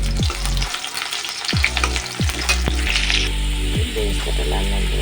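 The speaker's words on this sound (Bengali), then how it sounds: "সর্ষের তেলটা গরম হয়ে গেছে, এখন আমি বেরেস্তাটা ভেজে নেব।" Onions sizzle loudly in hot mustard oil for beresta, a steady dense fry with occasional stirring scrapes and clatter throughout, close and continuous with no talk.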